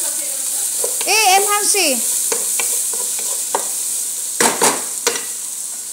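Onion and meat sautéing in a pan, a steady bright sizzle running throughout with occasional stirring scrapes, while a voice briefly speaks over it.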